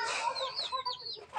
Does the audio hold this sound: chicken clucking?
yes